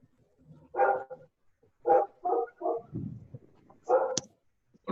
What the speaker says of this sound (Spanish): se escucha a un perro ladrar